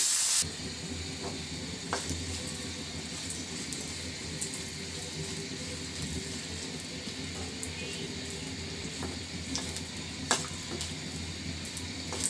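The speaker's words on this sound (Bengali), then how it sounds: "মরিচটা ভাজি করার জন্য এখানে কড়াই তেল দিয়ে নিয়েছি," Dried chilies fry in oil in a wok, a low steady sizzle and hiss close by, with a few sharp clicks and scrapes of stirring scattered throughout and no voices.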